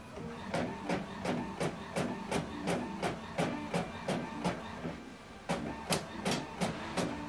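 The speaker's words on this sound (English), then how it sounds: "You can see the document is printing out." Epson WF-7840 inkjet printer printing a two-sided colour document, with a steady series of sharp mechanical clacks and whirring feed sounds in a regular rhythm, close and fairly quiet, no voices.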